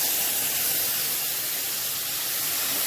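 Boiled Malabar spinach and potatoes go into a hot pan with fried prawns, setting off a loud, continuous spraying sizzle that holds steady from start to finish.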